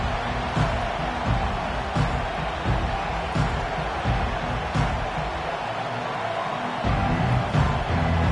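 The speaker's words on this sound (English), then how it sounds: "This crowd bringing an ear-splitting welcome to their visitors." A football stadium crowd roars in a steady, dense wall of noise welcoming the visiting team, loud and continuous throughout with small swells and thumps.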